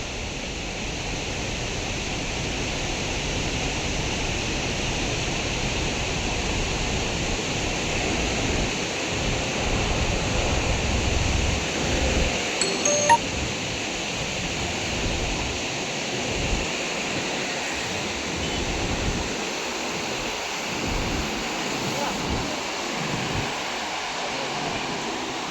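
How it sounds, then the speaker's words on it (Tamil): Water rushes powerfully from the open gates of the Mettur dam, a loud continuous roar that fills the whole stretch with no talk over it. "தண்ணி பார்த்தீங்கன்னா அப்படி சீறிக்கிட்டு போகுது நம்மளுக்கு."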